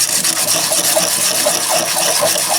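Steady dry rasping of a Panhard Junior steering rack shaft being sanded while seated in a cone, a continuous close scraping friction with no pauses and no talk.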